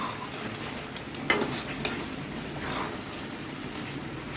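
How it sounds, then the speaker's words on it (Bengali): Chicken curry with roasted spice being stirred in a pan, a soft continuous sizzle broken by a couple of sharp scrape-and-clink strokes of the spoon. "ভাজা মশলাটা দিয়ে ভালো করে নাড়িয়ে চাড়িয়ে রেডি হয়ে যাবে আমাদের চিকেনের মহারানি।"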